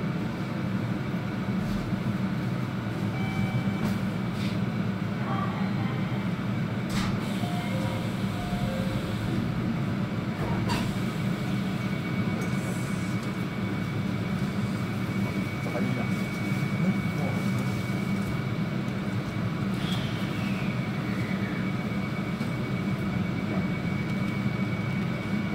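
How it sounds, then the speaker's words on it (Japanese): A local train waits at Kuwana station before departing for Nagoya, with a steady low engine and ventilation hum filling the whole stretch and faint clicks and tones over it, while a voice speaks intermittently. "36分発普通列車名古屋駅で間もなく発車となります。"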